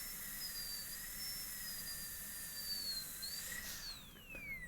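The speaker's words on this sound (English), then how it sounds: "I'm going to drill a hole and then cut away from that wall" A high-pitched dental drill cutting a molar whines steadily, its pitch wavering slightly and dropping near the end, quiet and close.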